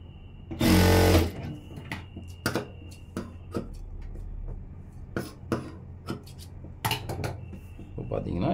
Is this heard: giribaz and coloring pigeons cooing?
no